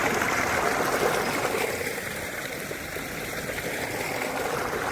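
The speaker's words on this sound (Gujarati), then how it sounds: "ફાઇનલી મિત્રો છે ને આપણે પાણી આવી જ ગયું છે" Irrigation water rushes steadily into a farm field in a continuous broad, even wash of flow, with no voices.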